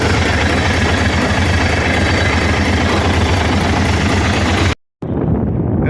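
A 2005 International Eagle truck with an ISX Cummins diesel idles loud and steady, a dense unbroken rumble that cuts out abruptly near the end and then resumes more faintly.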